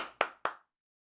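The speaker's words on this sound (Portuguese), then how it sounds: "mas estou aplaudindo de pé." Two sharp hand claps close to the microphone in quick succession, followed by silence.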